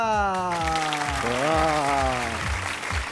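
Studio audience applause welcoming magician Felipe Gouveia onto a TV show stage, steady clapping mixed under loud music and a voice calling out.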